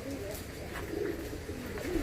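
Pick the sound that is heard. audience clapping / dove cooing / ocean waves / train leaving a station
dove cooing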